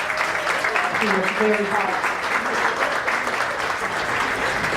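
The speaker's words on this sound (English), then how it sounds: "Big round of applause for Rebecca." Guests at a scholarship foundation gala clap steadily as a woman is welcomed to the stage, the applause continuing under a brief spoken remark from someone nearby.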